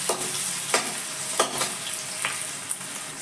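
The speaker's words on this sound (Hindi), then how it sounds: "तो हमने इसको एक मिनट तक भून लिया है" Vegetables for chow mein, carrot and onion, stir-fried on a high flame, giving a steady loud sizzle broken by several sharp scrapes and tosses of a utensil against the pan at a loose rhythm, with no voices.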